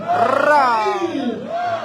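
Crowd at a huayno concert in Chupaca lets out a loud, rising group shout of cheers, a brief roaring "hey"-like yell from many voices close by.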